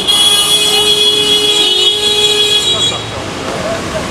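A car horn honks in busy road traffic, one long sustained blare of about three seconds over engine and roadway noise, with voices nearby.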